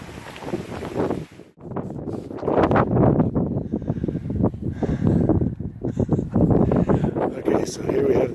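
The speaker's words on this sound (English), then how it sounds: "it was quite foggy and windy as we got up to the top" Strong wind buffets a foggy hilltop at Mam Tor in the Peak District, a loud continuous roar of gusts across the microphone with a brief lull, then steady rushing air.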